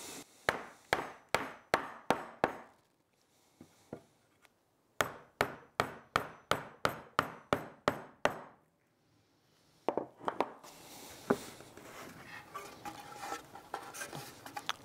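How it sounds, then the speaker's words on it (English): Hammer and wooden block tapping wooden battens into a beehive super panel: two quick bursts of about eight sharp, evenly spaced knocks each, close and loud, separated by a quiet pause, then busier handling noise and scattered knocks. "we'll just use the hammer and block."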